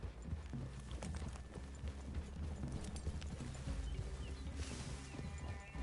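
Video game horse hooves clip-clop steadily at a walking pace, with a faint rustle of movement around them and no talking.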